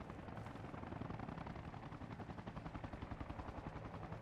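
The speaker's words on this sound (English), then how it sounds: "So many helicopters, I can't really hear what's going on other than that." Rhythmic thudding rotor chop of a helicopter overhead during a commando milsim exercise, steady and fairly distant, with a faint low rumble beneath.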